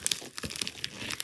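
Crinkling and tearing of plastic and cardboard packaging as a RadioShack 12-261 radio is unboxed, a run of close, rustling bursts with no talk.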